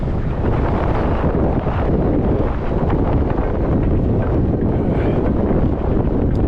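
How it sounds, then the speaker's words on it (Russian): Strong wind buffets the microphone in a steady, loud roar with no pauses for the whole stretch. "Глянь, что тут на лавке ветер"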